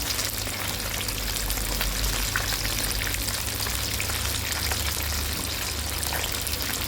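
Sea bass sizzling steadily in hot oil as it fries golden for a salt-crusted Thai dish, a dense continuous crackle and spatter running close and even throughout.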